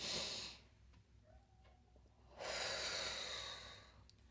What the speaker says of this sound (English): you breathe in through your nose